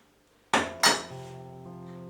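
A small kitchen pan gets picked up and set down while making a sauce for a pea and radish salad: two sharp, close metallic clanks a moment apart, followed by a lingering ring. No one speaks.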